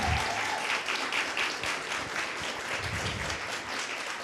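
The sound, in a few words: round of applause for the Big Easy owners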